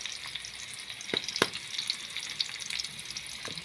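Pork frying in a pan with a faint, steady sizzle, punctuated by a few sharp scraping clicks as it is stirred, quiet and close with no talk.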